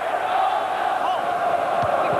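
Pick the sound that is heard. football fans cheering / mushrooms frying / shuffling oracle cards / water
football fans cheering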